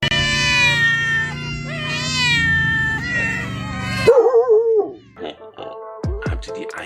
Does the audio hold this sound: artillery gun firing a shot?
no